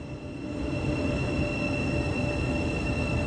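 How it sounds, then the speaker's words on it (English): Grand Central Class 180 diesel train arriving at a station platform, a steady loud rumble with faint high wheel squeal throughout, close by and uninterrupted. "We got a train on platform number 2."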